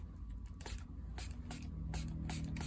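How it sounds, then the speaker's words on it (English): A hand spray bottle of plain water mists onto a watercolor painting of a river, several short, soft hissing bursts in quick succession, close and quiet with no talking over them. "And maybe I should spray."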